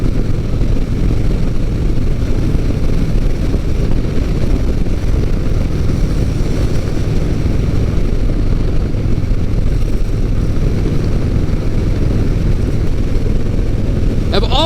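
A Victory Gunner motorcycle engine drones steadily and loudly throughout a ride, a dense low rumble mixed with wind noise and no break.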